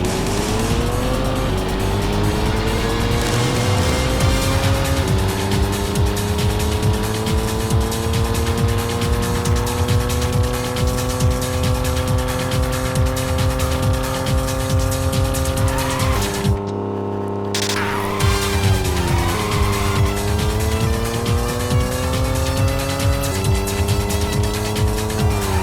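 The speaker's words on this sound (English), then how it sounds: "100 horsepower race, let's go." Race cars roar with continuous, rising engine notes and squealing tires during a 100-horsepower race in the Racing Lagoon video game, loud and steady throughout with a brief dip mid-race and no talking.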